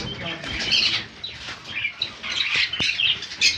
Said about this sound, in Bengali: এপারেও পাইনাপেল কনুর আছে